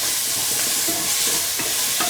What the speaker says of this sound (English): until the onions lose their pinkish color. Keep on sauteing.